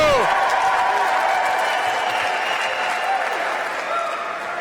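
Sustained applause from an inauguration ceremony audience, a dense wash of many hands clapping steadily for several seconds before easing slightly toward the end.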